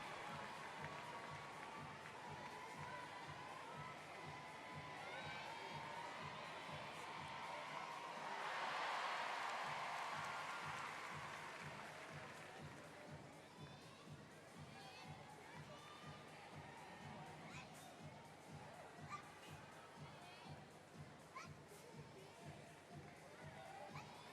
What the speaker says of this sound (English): a big cheer goes up for Ivan Dijanovic of Serbia following those 2 falls from the bar